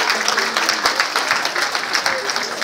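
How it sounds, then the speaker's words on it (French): Audience applause for national delegations being announced at a ceremony, a steady dense clapping throughout under a loud crowd, fairly close and continuous. "On peut les applaudir, je vous entends pas"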